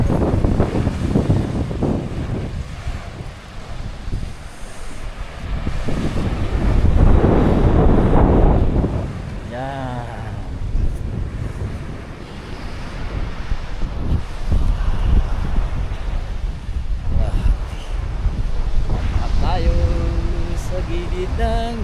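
Wind buffets the microphone and surf rolls in at a sunset beach, a steady loud roar with swelling waves, while people talk over it.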